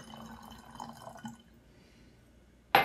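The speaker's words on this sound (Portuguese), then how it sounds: "vou colocar a mesma medida de água, metade do meu copo de 200 de água, quer dizer 100 ml de água," Water poured into a cup, about 100 ml, for a homemade air freshener mix; a faint, soft trickle early on that fades to near silence, then a brief louder splash at the very end.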